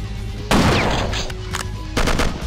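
Machine gun fire in the Will Rock video game bursts in loud and close, a sustained rattling volley followed by a shorter second burst.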